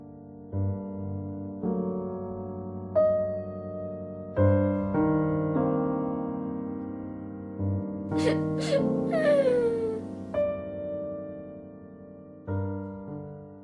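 Slow, sad solo piano plays in a children's story, soft sustained notes and chords ringing out one after another with gentle pauses, close and clear, with no talk over it.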